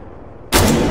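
A grenade bursts amid gunfire in ArmA 3, a sudden loud broadband blast that follows half a second of low rumble and hangs on as a sustained roar.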